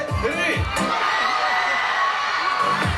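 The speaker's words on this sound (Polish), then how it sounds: "Na 3, 4 wszyscy głośno krzyczą swoje imię." A large crowd of children at a town festival shouts all at once in a dense, continuous roar of overlapping voices, loud and sustained throughout.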